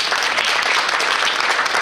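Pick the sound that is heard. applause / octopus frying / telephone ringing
applause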